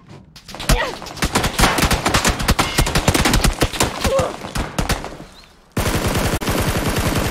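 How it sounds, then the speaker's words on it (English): Gunfire in the battle-royale game PUBG: rapid automatic bursts of loud, close shots in quick succession, a short gap, then another sustained burst of steady automatic fire, with no talk. "Shots behind me."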